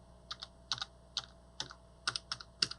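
A computer keyboard's arrow keys are pressed in a quick, irregular series of crisp clicks, about a dozen close taps, some in quick pairs, against a quiet background with no talking.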